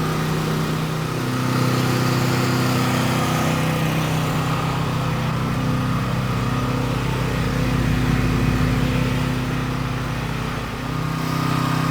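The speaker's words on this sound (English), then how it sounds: "the generator's still going, the Mustang's still running" A generator and a Ford Mustang engine run together in a garage, a steady droning engine hum with a strong low tonal buzz that holds evenly throughout, no talking.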